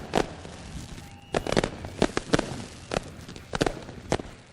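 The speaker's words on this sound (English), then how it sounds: "Lone Wolf Fireworks lighting up the sky, the official firework provider of Ohsweken Speedway." Fireworks bursting over Ohsweken Speedway after a 360 sprint car race, a series of sharp loud cracks and bangs at irregular intervals with crackling between them, no talk.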